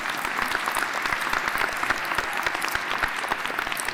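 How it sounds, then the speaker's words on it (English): Sustained applause fills a university communication graduation ceremony, a dense, even clatter of many clapping hands with only faint crowd murmur beneath. "yeah, please, feel free to clap"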